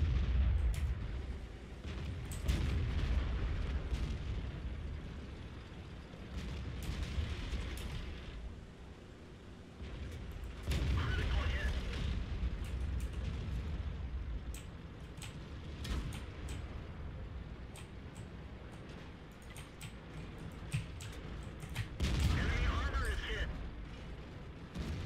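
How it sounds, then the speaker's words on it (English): A tank cannon fires in World of Tanks: heavy booming blasts land near 2, 11 and 22 seconds over a constant rumbling engine and battle noise, and players talk throughout. "I fired, guys. You heard that."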